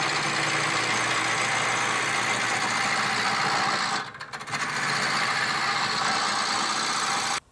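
Wood lathe spinning a gnocchi board blank down to round, a loud steady whirring motor and cutting hiss that dips briefly midway, then resumes and cuts off at the end.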